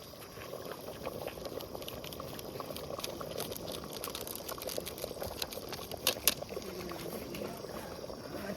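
Chicken curry simmering in a large pot, a soft steady bubbling and popping with faint outdoor background, fairly quiet and continuous, with a brief louder clatter near the end.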